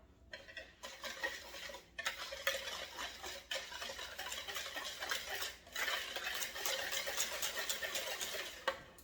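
Eggs being stirred into sugar in a bowl for pumpkin pie, with a utensil scraping and clinking rhythmically against the bowl in quick repeated strokes, close and continuous, pausing briefly a few times.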